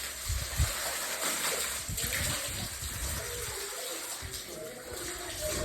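Water gushes out under pressure in a steady, continuous rush, like a strong tap filling a tub, held at an even, fairly quiet level for several seconds.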